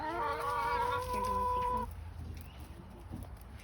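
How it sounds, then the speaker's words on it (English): A hen pecking at dried mealworms clucks close by in a drawn-out, wavering call before it breaks off, followed by quieter farmyard background noise. "the hens are pecking the dried mealworms"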